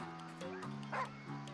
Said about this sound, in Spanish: Nuestro gran amigo, el perrito.